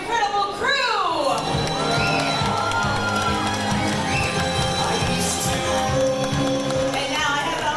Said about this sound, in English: So first off, please give a big round of applause for our incredible crew!